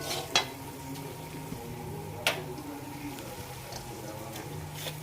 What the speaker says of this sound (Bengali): তবে ভেজে তারপর রান্না করছি।